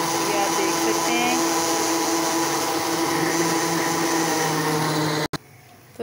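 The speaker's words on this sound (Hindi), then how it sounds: "हमने बेसन, दही और एक गिलास पानी मिलाकर इसे हम ग्राइंड करेंगे" A grinder blends gram flour, yogurt and a glass of water for pakora curry, running as a loud, steady whine that ends abruptly near the end.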